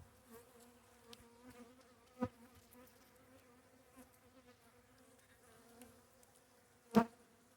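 Honey bees buzz steadily around an opened spring hive, a faint continuous hum with a couple of sharp knocks, no voices.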